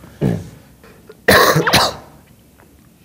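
Someone coughs twice, one short cough followed by a longer, harsher burst of coughing a moment later, close and fairly loud, during a singing rehearsal by a person with a cold.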